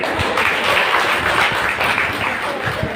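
An audience at a Brahma Kumaris positive-thinking class in Surat breaks into brief, steady applause, a dense patter of clapping from a roomful of people.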